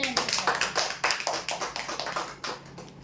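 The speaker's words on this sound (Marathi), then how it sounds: "जोरदार टाळ्या" A small crowd claps in quick, uneven bursts at a prize draw, steady applause that softens slightly toward the end, with no voices.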